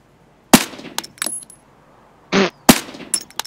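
A PP-19-01 submachine gun fires in Escape from Tarkov: several loud, sharp gunshots ring out singly and in quick pairs with short echoing tails, between stretches of near silence and a brief mechanical clatter.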